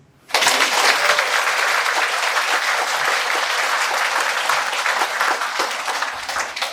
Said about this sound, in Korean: 헌법재판관들께 박수